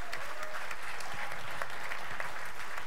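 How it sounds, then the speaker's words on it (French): A crowd at a live gaming event at Stunfest 2015 bursts into dense, continuous applause, loud and close, filling the moment with steady clapping. "Applaudissements pour Ankimi."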